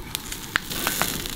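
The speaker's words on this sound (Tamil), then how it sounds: "தேங்காய் எண்ணெய் ஊற்றி தான் நம்ம இப்படி பொரிக்கணும்." Coconut oil sizzles and crackles in a pan as fish fries, with sharp pops standing out over a steady close hiss.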